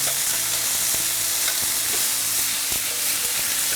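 Chicken breast pan-frying in a little oil over medium-low heat, a steady close sizzle broken by repeated scraping strokes of a spatula, with no talking.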